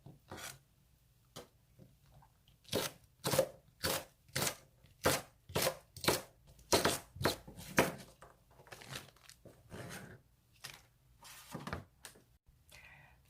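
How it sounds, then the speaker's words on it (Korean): Knife chopping chili peppers on a cutting board, a steady run of sharp close knocks, about a dozen strokes in quick rhythm, then slower scattered cuts near the end. "이번엔 고추를 좀 썰어 보겠습니다."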